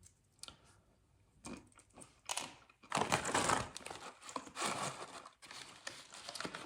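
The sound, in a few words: cracking open and eating pistachio nuts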